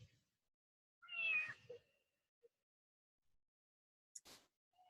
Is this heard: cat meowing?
yes